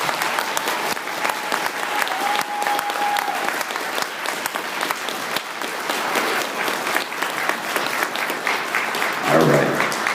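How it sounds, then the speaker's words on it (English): Sustained applause from an assembled audience at a National Junior Honor Society induction ceremony, steady and dense clapping for about ten seconds with a brief louder flourish near the end. "let's give them one last round of applause"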